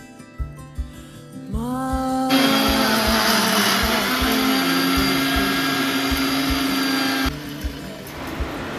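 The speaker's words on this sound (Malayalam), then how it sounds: "മസാലക്കൂട്ട് മിക്സിയിൽ പൊടിച്ചെടുത്തു." A mixer grinder whirs up to full speed and grinds roasted whole spices (fennel, cinnamon, cloves, cardamom) into masala, a loud steady motor drone of several seconds that cuts off abruptly, preceded by a few light clicks.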